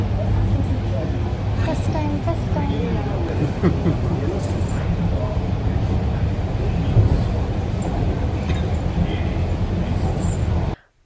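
Steady rumbling inside a moving metro car, wheels droning for several seconds with faint clicks and a murmur of voices, then stopping abruptly.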